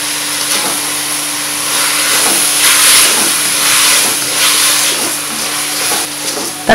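Tomatoes sautéing in a pan for kovakkai (ivy gourd) poriyal give off a steady, fairly loud hissing sizzle throughout, rising and falling slightly with no talking.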